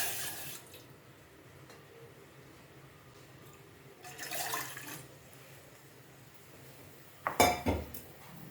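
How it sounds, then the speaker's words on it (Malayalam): Water poured into a pot on a lit stove, a brief splashing gush near the end after quieter kitchen handling and a soft swell of running water, close by. "ഇതേ അളവിൽ തന്നെ 2 പാത്രം വെള്ളം ഇതിലേക്ക് ഒഴിച്ചു കൊടുക്കാം."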